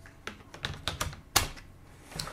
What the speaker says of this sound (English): And lastly, replace the battery.